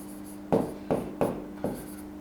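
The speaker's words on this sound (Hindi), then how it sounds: "मैं लिखता हूं प्रिया" Four short, distinct strokes of chalk or marker on a classroom board as a sentence is written, each a crisp scrape with brief gaps between, close and fairly loud against a steady background hum.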